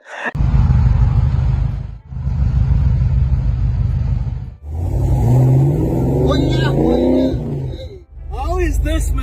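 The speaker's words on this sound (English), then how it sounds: "I didn't even know they were driving in a Cobra." A Shelby Cobra sports car's engine roars close and loud, revving in strong bursts with rising pitch, broken by a few brief pauses between pulls.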